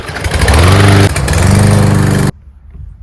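A petrol lawn mower engine runs loud and close with a steady mid-pitched drone, surging briefly as it is pull-started, then cuts off abruptly, leaving near silence.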